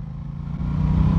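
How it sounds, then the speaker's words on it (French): Aprilia Tuono 660 motorcycle engine running with a steady low rumble that swells slightly as it accelerates, close and loud with no talk. "elle a un super rendement moteur qui, dès qu'on accélère, hop, dans un rugissement"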